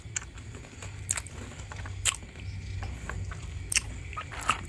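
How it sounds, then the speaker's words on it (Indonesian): Tini Wini Biti crunchy chocolate biscuit with chocolate cream being bitten and chewed up close, a series of sharp crisp crunches spaced unevenly over a quiet background. "Biskuitnya renyah, berpadu dengan krim coklatnya yang mantap."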